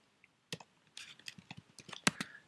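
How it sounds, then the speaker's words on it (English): Short name typed on a computer keyboard: a single tap, then a quick uneven run of crisp, close key clicks with one louder keystroke near the end, in an otherwise quiet room. "So if we type in a name and let's just say it's John"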